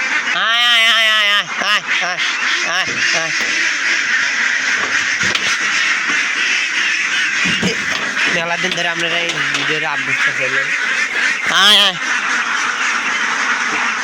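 A flock of farm ducks quacks and honks loudly and constantly at close range, calls overlapping in nasal bursts, while someone talks over them throughout.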